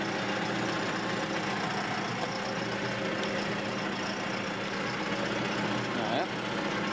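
Engine of a Landrunner build truck running while driving, a continuous rough mid-low drone with steady road noise and no clear changes, heard from nearby.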